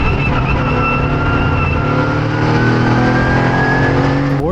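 A Mercedes AMG GT4 race car engine drones loudly and steadily on track, its pitch climbing gradually as it accelerates, with a sharp shift near the end.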